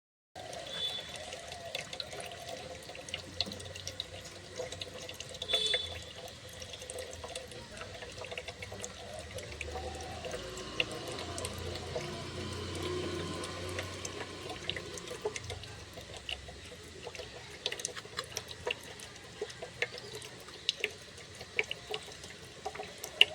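Strawberries rinsed under a running kitchen tap, a faint steady trickle and splash continuing for the whole stretch, with small clinks and knocks from handling, no talk.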